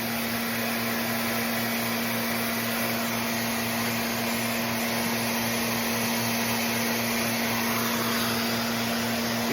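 A SurfPrep random orbit sander runs continuously with a steady, dense whirring drone and a constant low motor hum, holding an even level throughout with no pauses.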